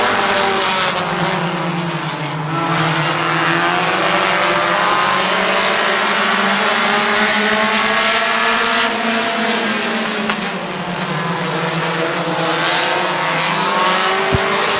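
Stock cars roar around the short oval at Midvale Speedway, engines rising and falling in pitch as they pass, loud and sustained with a track announcer talking over the pack.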